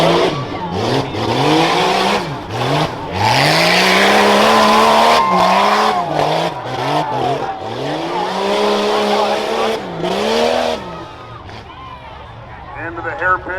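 Modified-class rough trucks, including a Jeep Cherokee, race a dirt course at Hartford Fair, engines revving and rising in pitch as they carry speed downhill, with repeated surges, tire noise and a commentator talking over the loud racing.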